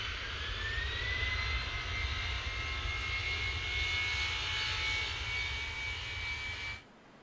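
A jet airliner rolls for takeoff on runway 34 left at Salt Lake City in Tower Simulator 3, a steady loud engine roar with a rising whine that holds for several seconds, then cuts off abruptly.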